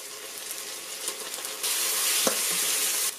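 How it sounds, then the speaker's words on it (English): Ginger garlic paste sizzles as it hits golden brown onions in a multi cooker pot. Steady hissing grows louder and brighter halfway through, with a small clink and stirring sounds and no voices. "I'll add my ginger garlic paste"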